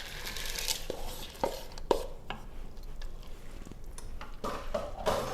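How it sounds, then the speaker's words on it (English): A utensil stirs black-eyed peas seasoned with salt and black pepper in a cooking pot, giving scattered clinks and soft scraping knocks at an uneven pace, fairly close and without talk. "Give it a little stir."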